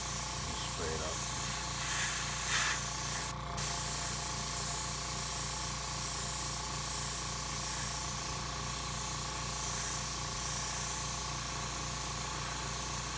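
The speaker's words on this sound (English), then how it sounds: "We got the compressor on and we're just gonna spray this up here." A compressor-driven paint sprayer hisses continuously while coating a clay base, a steady airy spray over a constant low motor hum, with a person talking throughout.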